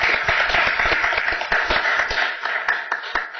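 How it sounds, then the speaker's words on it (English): Round of applause at a public county board meeting, a dense burst of many hands clapping indoors that starts full and gradually thins out to scattered claps. "So we're going to give you a round of applause."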